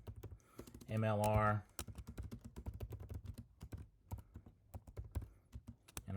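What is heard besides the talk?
typing on a computer keyboard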